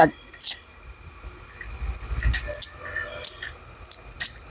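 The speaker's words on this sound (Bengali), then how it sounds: "আপনারা বাইরে থেকে এভাবে চাবি দিয়ে খুলতে পারবেন" Keys jangle and scrape in a lock in a few short metallic bursts, close up, with a voice talking between the clinks.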